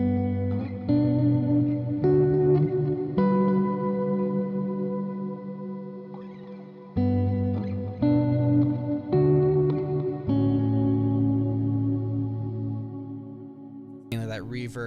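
Electric guitar run through a pedalboard into ambient reverb: sustained chords and notes ring out and swell into long, washy tails, with short pauses between phrases and a sharper strum at the very end.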